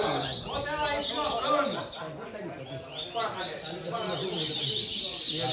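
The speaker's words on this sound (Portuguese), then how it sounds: "Passarinho aqui do nosso amigo Gil cantando e cantando" A coleiro songbird, a caged contestant at a Brazilian bird-singing competition, sings repeated bright warbling phrases up close while someone talks over it.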